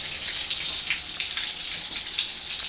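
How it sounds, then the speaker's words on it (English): Tap water running into a bathtub with the stopper closed in a farmhouse bathroom, a steady hissing splash of water, continuous and moderately loud with no voices. "partially fill your tub"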